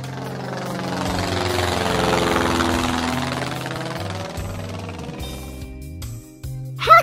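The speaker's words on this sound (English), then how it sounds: "Sporting airplane." A sport airplane's engine drones steadily with a buzzing, harmonic hum that slowly swells and fades, ending with a brief sharp click.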